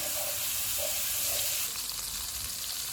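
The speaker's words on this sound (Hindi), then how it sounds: "ऑयल गर्म हो गया। इसमें अदरक और लहसुन का पेस्ट डाल देंगे। इसको हम 1 मिनट तक फ्राई करेंगे।" Ginger garlic paste frying in hot oil makes a loud, steady, close-up sizzle with a few soft stirring scrapes mixed in.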